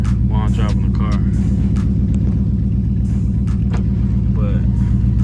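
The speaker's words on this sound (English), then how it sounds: "I got that little misfire going on, which I'm gonna fix." A 2003 Infiniti M45 V8 fitted with Nissan Titan headers idles with a misfire, a loud, steady, throbbing low rumble that is close up throughout, with someone talking over it.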